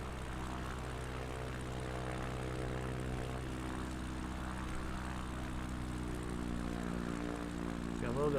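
A propeller plane coming in to land in a crosswind in Microsoft Flight Simulator 2020, with full flaps: a steady, droning engine hum that holds throughout and swells slightly at the end.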